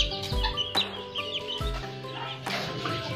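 Several short clucks and squawks from a sick serama chicken, close by, with a couple of sharper bursts among softer murmuring calls.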